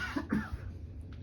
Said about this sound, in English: Sorry, coughing for some reason today.